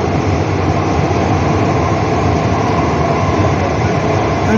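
A Mumbai Metro Aqua Line 3 train runs between Aarey JVLR and Kotak BKC with a loud, continuous rumble and rolling wheel noise, steady from start to finish with no talking.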